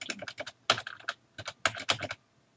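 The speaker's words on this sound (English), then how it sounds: "we would type J, J, F, F, J, J, F, F." Keys on a computer keyboard are tapped in quick clusters during a typing spacing drill, with crisp, close clicks grouped in short bursts separated by brief pauses.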